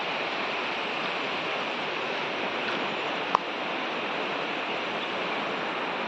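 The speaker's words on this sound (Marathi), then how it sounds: "नदीला पाणीसुद्धा खूप आहे" Constant broadband rush of a rain-swollen river flowing near an old bridge, loud and unbroken, with one brief click partway through and no voices.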